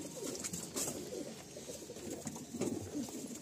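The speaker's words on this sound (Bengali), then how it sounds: "এই পায়রাটা দেখুন বন্ধুরা" A Giribaj pigeon at a loft coos softly in repeated low, rolling phrases, fairly close, with faint background noise and no talk.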